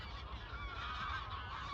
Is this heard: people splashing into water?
no